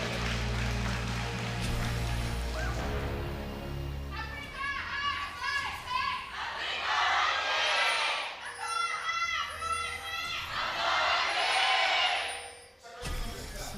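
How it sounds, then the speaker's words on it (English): An arena crowd at a League of Legends LCK match between Afreeca Freecs and Samsung Galaxy cheers for Samsung in high-pitched swells that rise twice and then cut off, under a caster's talk. "Huge cheers from the crowd for Samsung"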